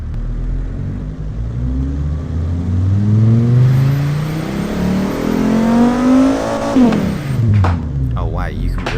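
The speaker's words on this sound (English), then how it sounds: "you can really hear the turbocharger there, the whistling of it" A turbocharged car engine in a video game revs up steadily, a rising engine note with a turbo whistle building over it before dropping off sharply near the end, while a person talks over it.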